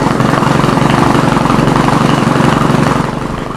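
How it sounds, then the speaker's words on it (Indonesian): A Kawasaki W800 motorcycle engine idles steadily through a P-shooter exhaust, a loud, continuous low throb with a busy rumbling texture that eases slightly near the end, heard close up with no talking. "Ngomong knalpot, kita dengar suaranya."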